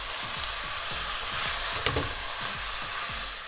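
Cut meat sizzles and fries with browning vegetables in a pot. A steady crackle runs throughout, with regular scraping stirs beneath it, close up and without speech.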